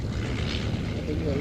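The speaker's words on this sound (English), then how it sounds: "making sure the engine doesn't stop just by pumping the throttle there" A propeller aircraft's engine drones steadily during a slow, low pass at a live aviation show, its throttle pumped to keep it running. A broad, continuous roar fills the short moment, with no clear break.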